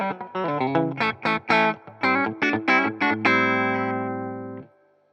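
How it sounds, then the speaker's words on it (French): Squier Affinity Telecaster played on its bridge pickup, giving a bright, twangy, snappy clean tone: a quick run of plucked notes followed by a ringing chord that sustains and fades out, with some effect coloring. "quand on est sur le micro chevalet, comme ça, on aime bien avoir ces sons un petit peu twang, un petit peu brillants, un petit peu claquants."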